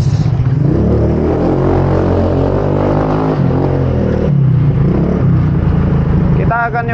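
A Scomadi scooter engine pulls hard under acceleration during a test ride, a loud close buzzing drone rising in pitch with wind rush and a gear change midway, a rider's voice faintly under the noise.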